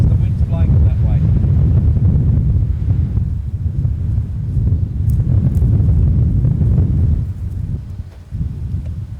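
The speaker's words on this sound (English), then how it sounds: "That's only because the wind's blowing them that way." Strong wind blowing through an olive grove, a loud, continuous gusty roar buffeting close by, with people talking over it.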